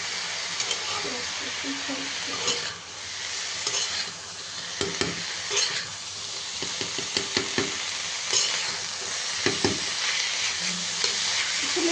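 Fresh garden greens with plenty of chopped green chillies sizzle and fry in a pan, with steady frying hiss broken by repeated scraping stirs and occasional utensil knocks close by.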